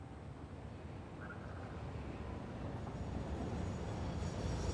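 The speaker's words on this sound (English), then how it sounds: "I heard the train pulling out" A train in the video game Satisfactory rolls out, a steady low rumble of wheels and carriages that swells slightly as it moves, loud and continuous with no talk.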